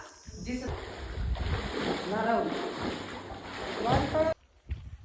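Water in a village well splashes and sloshes close by as people swim, with voices talking over it, then the sound cuts off abruptly near the end.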